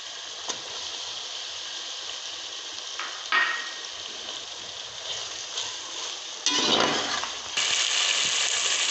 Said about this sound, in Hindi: हमारे टमाटर फ्राई हो चुके हैं।